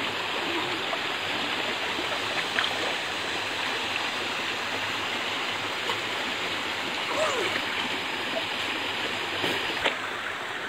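Creek water flowing steadily, a continuous rushing and gurgling stream close by, with a few faint splashes and no clear talk.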